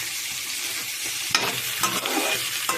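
Food sizzles steadily as it fries in a pan in a home kitchen, with a few sharper scraping stirs breaking through the constant hiss, close and moderately loud with no talking.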